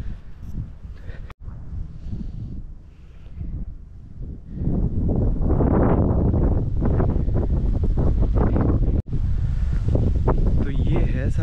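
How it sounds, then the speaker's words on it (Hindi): Strong wind blowing outdoors on a street on a university campus in Prague, loud buffeting roar against the microphone that swells and stays heavy, with someone speaking through it at times. "वैसे हवा चल रही है बहुत तेज"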